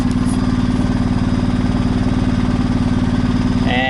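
Isuzu Impulse RS AWD idling while running rich, a steady close, loud pulsing engine throb with an even rapid rhythm that holds throughout.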